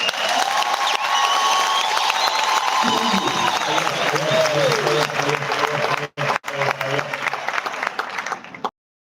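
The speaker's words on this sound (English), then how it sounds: "Presley Chweneyagae and Munili, a big round of applause" Audience applause fills a memorial service in a theatre, sustained dense clapping with some cheering that runs loud and steady before briefly dropping out and cutting off near the end, with voices mixed in.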